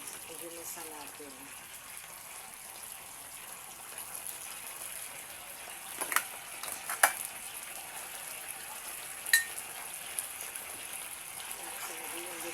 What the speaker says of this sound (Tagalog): hintayin natin kumulo muna yung century tuna. Iginisa natin.